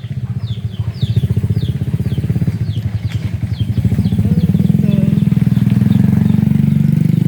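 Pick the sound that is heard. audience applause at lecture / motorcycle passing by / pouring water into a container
motorcycle passing by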